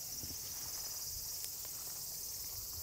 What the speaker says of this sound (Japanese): セミが鳴いておるぞ。